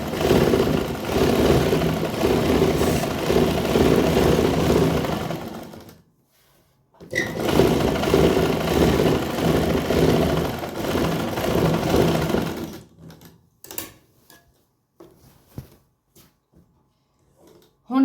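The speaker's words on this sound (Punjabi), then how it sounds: "ਇੱਕ ਪੈਰ ਦੇ ਹਿਸਾਬ ਨਾਲ ਆਪਾਂ ਸਿੱਧੀ ਸਲਾਈ ਲਾਵਾਂਗੇ" Electric sewing machine running steady straight stitches on a salwar reinforced with buckram, two long continuous bursts of motor whirr separated by a brief pause, then short stops and starts near the end.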